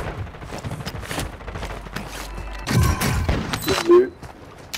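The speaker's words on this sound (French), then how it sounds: "Merde, on me tire dessus." Gunfire in Call of Duty: Modern Warfare II: irregular bursts of shots and thumps at varying distances, with a louder close volley partway through and someone talking over the action.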